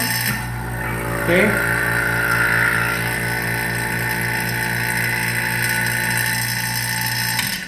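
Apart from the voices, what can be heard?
vacuum pump running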